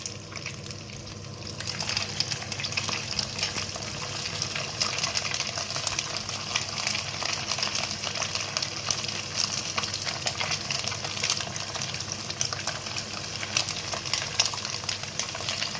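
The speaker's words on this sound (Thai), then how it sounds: "แล้วเรามาดูวิธีการทอดกันนะคะ" Marinated pork frying in a hot pan over medium heat, a dense, continuous sizzle and crackle of oil, fairly close and steady throughout with no talking.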